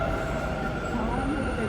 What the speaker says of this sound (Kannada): ಮೆಟ್ರೋ ಬಂದಿದೆ